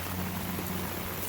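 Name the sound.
heavy rain falling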